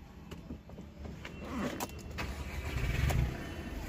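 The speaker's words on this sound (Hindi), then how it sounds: "तो एक बार गाड़ी को स्टार्ट करते हैं और देखो ज़रा।" A Volkswagen Polo 1.5 diesel with a stage 1 engine remap starts up: a quiet crank, then an engine note that swells and settles into a low idle, with no talk.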